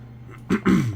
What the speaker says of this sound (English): I have to clear my throat slightly